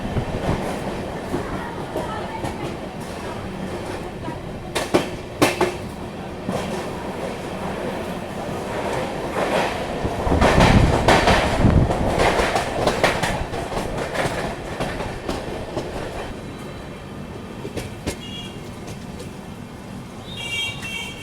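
The Sairang Rajdhani Express rolls through Rajendra Nagar, Patna, with a loud continuous rumble and rhythmic clickety-clack of wheels over rail joints, swelling to a heavier roar midway and easing again.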